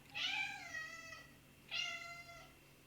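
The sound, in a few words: shop cat meowing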